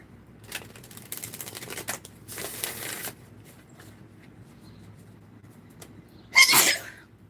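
A Grand Lux Tarot card deck being shuffled, soft riffling bursts near the start and middle, then a sharper, louder riffle near the end in a quiet room.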